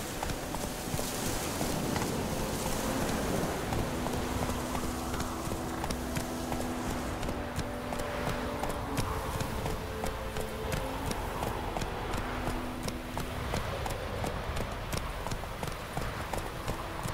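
Hooves of Geralt's horse Roach in The Witcher 3 video game, a steady clip-clop trotting rhythm that carries on for over fifteen seconds under game ambience and faint music.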